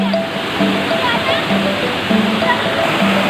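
Water rushes and splashes at a clear river bathing spot at Muara Kasih in Lampung where people are swimming, a loud, continuous wash of flowing water with voices talking over it.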